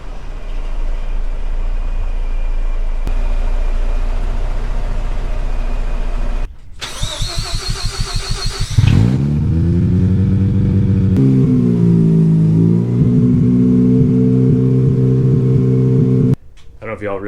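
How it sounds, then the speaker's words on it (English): A truck engine cranks and starts, then idles and revs as it pulls into a home garage, loud and close, with a steady mechanical hum before the start. "we're gonna take this opportunity to see if the truck fits in the garage"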